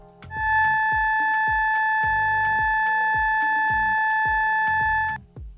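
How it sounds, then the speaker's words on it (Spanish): A steady, sustained flute-like tone from additive synthesis holds for about five seconds over a soft, repeating background beat, then cuts off. "el sonido de la flauta emulado en este sintetizador"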